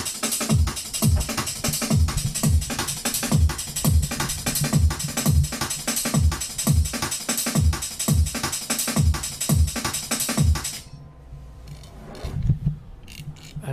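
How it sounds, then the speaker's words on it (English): A programmed drum and bass beat with a ride cymbal plays a fast, steady pattern of punchy kicks and snares under a bright, constant cymbal wash, then cuts out abruptly near the end, leaving a quieter tail. "This is your finished drum and bass beat."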